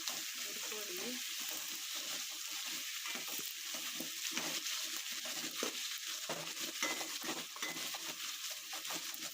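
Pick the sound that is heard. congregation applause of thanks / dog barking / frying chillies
frying chillies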